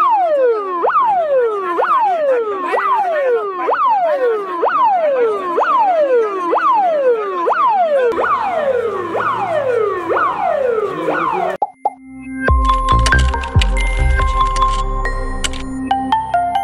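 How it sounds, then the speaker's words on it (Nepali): An ambulance siren at Kathmandu airport wails loudly and close by, rising and falling in repeated sweeps that speed into a faster cycle, then breaks into a jumble of mixed clattering noise near the end. "यतिखेर ज्ञानेन्द्र शाही आउँदै हुनुहुन्छ एम्बुलेन्समा."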